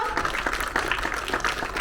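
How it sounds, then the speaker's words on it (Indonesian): Audience applause fills a theatre at a film premiere screening, a continuous dense burst of clapping from a large crowd throughout, fairly loud and close. "tepuk tangannya sekali lagi dong untuk Menteri kita, Bapak Sandiaga Uno"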